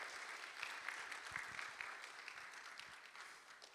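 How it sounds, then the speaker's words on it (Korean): A church congregation at Sunday worship claps to welcome a newborn baby on the family's first visit, a dense, sustained round of applause that stays steady and then tapers slightly toward the end. "한번 박수해 주실까요?"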